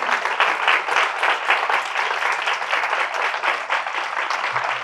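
An in-person audience applauds at the end of a talk, a full, steady wash of many hands clapping close by, sustained evenly throughout with little else heard.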